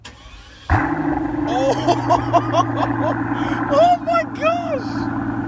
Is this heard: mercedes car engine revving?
yes